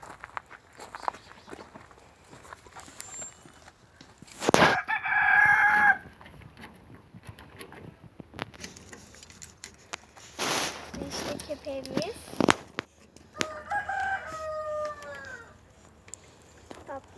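A rooster crows loudly nearby in a garden, its drawn-out harmonic call rising and falling, while hens cluck softly in the background along with scattered footsteps.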